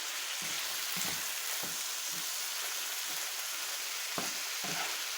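Cooked white beans stirred in a sizzling pan for a pasta and sausage dish, a steady frying hiss broken by several soft scraping stir strokes at irregular intervals, close up with no talking.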